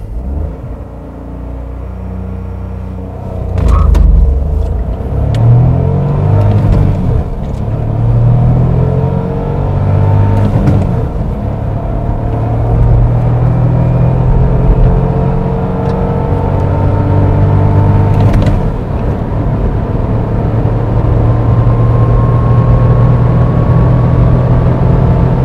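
Dacia Jogger 1.0 ECO-G with a six-speed manual gearbox, running on petrol and carrying two people and some luggage, accelerating from 0 to 100 km/h. A steady, loud in-cabin engine drone climbs in pitch through the gears, with no talking.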